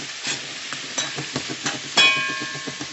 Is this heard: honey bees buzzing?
no